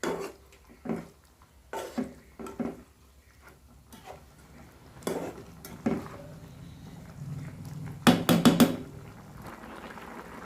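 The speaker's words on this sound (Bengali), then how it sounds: "সব কিছু একসঙ্গে ভালোভাবে মিশিয়ে নেব।" Chicken stew ingredients with sugar and a pinch of garam masala powder being stirred together in a pan: intermittent metallic scrapes, clinks and taps of a spoon against the pan, close up, with no talking.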